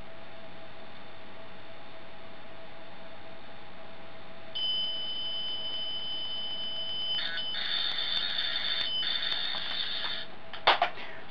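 An old computer data tape plays steady modem-like tones, a high constant whine that swells into denser warbling bursts before a few sharp clicks at the end, with no speech.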